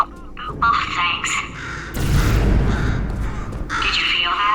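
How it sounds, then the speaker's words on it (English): A bird in the Portal 2 video game gives a few harsh caws between stretches of synthetic game voice, followed by a loud burst of noise midway. "Could you, murder this bird for me?"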